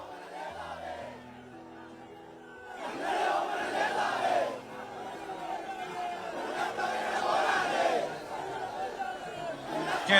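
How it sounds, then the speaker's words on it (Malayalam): A crowd gathering along the funeral procession route toward VS Achuthanandan's house in Punnapra, a dense murmur of chatter and shouting that swells and holds, with a reporter's voice over it. "അവിടെയും ആൾക്കൂട്ടം വന്നു തുടങ്ങിയോ?"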